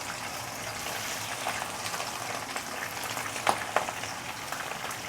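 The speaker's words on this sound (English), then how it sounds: "then we are going to put this into hot oil" Headless prawns fry in oil heated to smoking point, a loud, continuous close sizzle with a few sharper spits and pops partway through.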